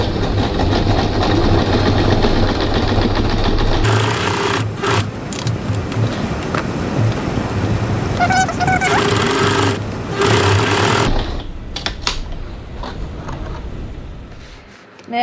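A sewing machine stitches the corners of a crossbody bag at a 2.5 stitch length, a loud rapid mechanical whirring hum that runs in long bursts with brief pauses and then trails off, with no talk.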